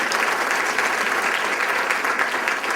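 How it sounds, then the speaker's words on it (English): Steady, dense applause from an audience at a speaking event fills the whole stretch at an even level, a continuous wash of many hands clapping with no voices standing out. "Give yourselves a round of applause"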